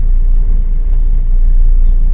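A 2011 Toyota Avanza engine idles with a steady low rumble and faint vibration, no revving, alone without voices.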